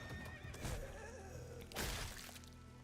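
Horses neigh and whinny in Telltale's The Walking Dead: A New Frontier, a loud drawn-out call near the start and a second strong burst partway through, with faint clip-clop and ambient game sound beneath.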